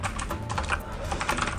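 Rapid typing on a Tt eSports Poseidon Z RGB gaming keyboard with clicky blue mechanical switches, a steady stream of close, crisp key clicks with no voices.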